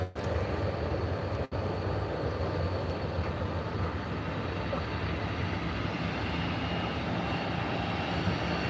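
A C-130 aircraft taxiing to parking gives a steady, loud engine drone that holds for the whole stretch, with one brief dropout early on and no voices.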